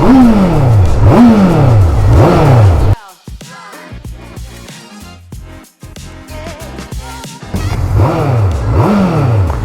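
A Honda CBF600 motorcycle engine revs hard in rising, repeated pulls, drops to a lumpy idle with clicks and clatter, then revs up loudly again.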